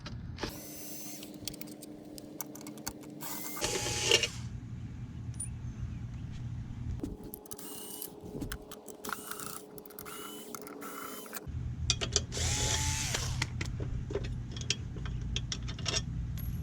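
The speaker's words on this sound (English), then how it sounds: "8mm bolts holding the CVT cover on." Mechanical ratcheting and metallic clicks from an 8mm socket working the CVT cover bolts loose on a GY6 scooter, coming in bursts with brief pauses and faint creaks, close and fairly quiet.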